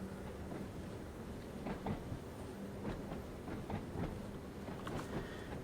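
A train running on the Isle of Wight line in Train Sim World 5, with steady rolling rumble and repeated rhythmic wheel clicks over the track joints, fairly quiet and without talk.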